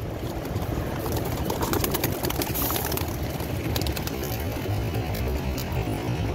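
A rush of fluttering wings with soft cooing mixed in as six pigeons are released, a busy, continuous flurry close by.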